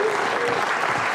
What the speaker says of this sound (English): Oh, they're clapping.